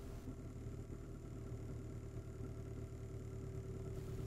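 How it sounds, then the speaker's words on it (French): A car engine idling just after being started, with a steady, even low hum and faint vibration throughout, no voices. "Je viens de démarrer le véhicule."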